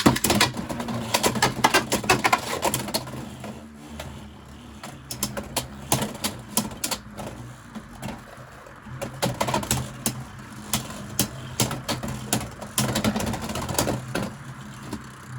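A Beyblade X battle in the Nintendo Switch game, rendered as rapid clattering and rattling impacts that come in dense bursts across the whole stretch, loud and close.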